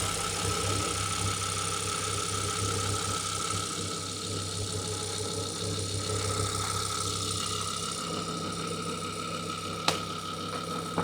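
An Audi RS6 engine idles steadily while warming up after repair work, giving a continuous low rumble with a constant mechanical hum and a single sharp click near the end.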